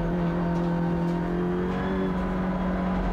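An Audi RS 3 LMS TCR race car engine pulls hard at full throttle on the Spa-Francorchamps circuit, a steady, loud onboard drone with a rising pitch across the whole stretch.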